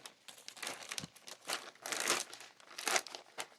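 A plastic zippered bag crinkles in close, irregular bursts while striped yarn is handled for granny squares, with bright rustling surges and short pauses and no talking.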